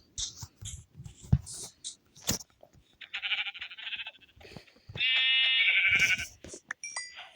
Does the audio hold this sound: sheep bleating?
yes